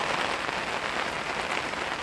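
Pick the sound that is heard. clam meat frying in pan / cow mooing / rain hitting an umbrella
rain hitting an umbrella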